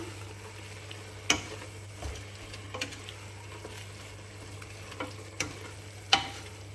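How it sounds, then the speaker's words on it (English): Pumpkin kebbe mixture with sumac and chili flakes being mixed by hand or spoon, quiet background hiss broken by several sharp clicks and knocks of utensil against bowl, no talking. "I mix everything together."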